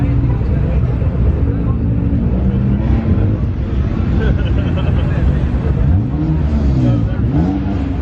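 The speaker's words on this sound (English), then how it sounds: "Man, so many cars." Many cars driving together in a slow hospital cruise procession for Covid-19 patients and staff, a dense continuous engine and traffic rumble with occasional revving and passing swells, voices talking over it.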